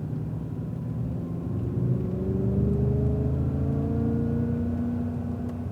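A Cadillac CTS-V lapping a race track at the V-Performance Academy, its engine humming steadily and rising slowly in pitch as it accelerates, a smooth continuous drone with no talk.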